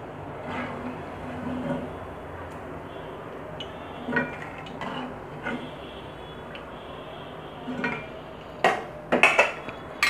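Kitchen utensils clinking against a pan and metal while fried lentil fritters (piyaju) are strained from oil, soft scattered taps and scrapes with a few brighter clanks toward the end, no talking.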